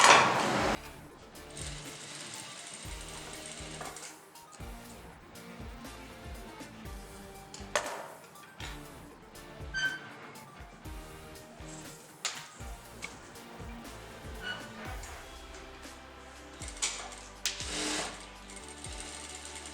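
A sewing machine stitches a bias strip onto a blouse neckline, running in short bursts of rapid mechanical whirring separated by pauses, fairly close and moderately loud, with no talking.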